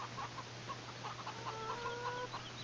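Chickens on an unfenced farm in a farming simulator game cluck in short, repeated bursts over a steady low hum, quiet and even, with nobody speaking.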